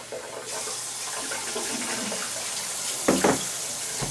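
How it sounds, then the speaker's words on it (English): Water running off soaked cashews as they are drained, a steady splashing pour with a brief louder gush near the end. "what we need to do is we need to drain the cashews first"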